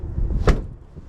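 A Dodge Ram truck door with a newly installed handle opens and shuts, a single sharp thud rising out of low rumbling handling noise, close up.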